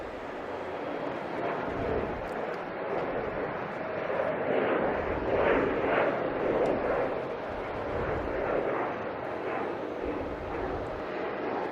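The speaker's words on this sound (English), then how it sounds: "It sounds like there's other planes all different places now." Jet aircraft at Logan Airport at night, several planes including an Embraer 175 around the field, give a steady broad engine roar with slow swells, distant and continuous, under faint background talk.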